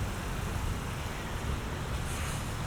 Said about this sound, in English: It is incredibly windy today. We're getting 40-50 mile an hour gusts